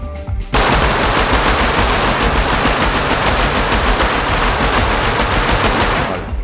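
Sustained rapid automatic gunfire in the survival game Rust during a raid, loud and continuous for about six seconds after a brief quiet start, with no talking.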